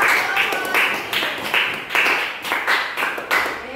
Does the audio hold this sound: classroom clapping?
yes